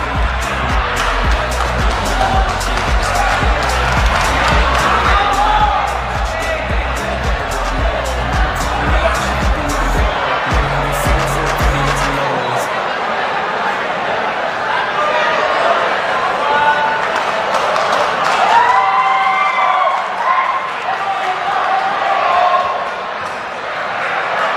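Crowd applause and cheering ring out at a WBC International light flyweight boxing belt presentation. Loud, dense clapping and shouts fill the hall while an announcer speaks over amplified music, and the music stops partway through.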